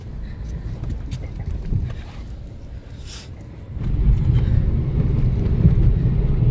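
A car drives along a road after a street collision, its low engine and road rumble steady at first, then growing louder and fuller midway with wind buffeting the microphone, fairly close throughout.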